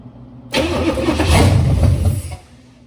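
A 1955 Chevy 210 with a newly installed 305 small block cranks and fires abruptly, roaring loudly up close for about two seconds before quickly dying back down.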